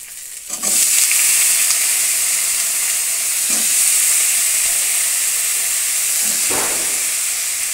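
Fish head curry with data stalks, eggplant, potato, cumin, coriander and ginger sizzles loudly in a pan, a steady bright frying hiss that swells as ingredients are stirred, with a few sharp bursts.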